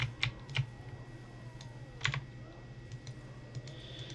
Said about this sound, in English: I'm sure you guys can hear every little click of my keyboard when I do something